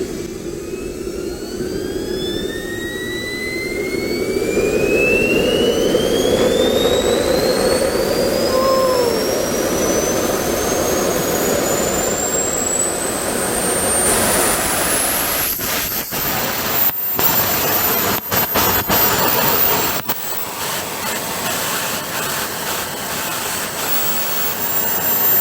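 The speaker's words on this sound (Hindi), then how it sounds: "अभी मैं आपको स्टार्ट करके दिखाने वाला हूँ ये टर्बो जेट इंजन" A homemade turbojet engine spools up with a rising whine that sweeps steadily higher, settling into a loud, steady roar with a whistling top end and occasional sharp crackles toward the end.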